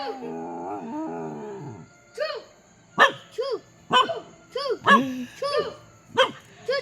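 A dog growls low and drawn-out, then breaks into a series of short, close barks at an irregular rhythm.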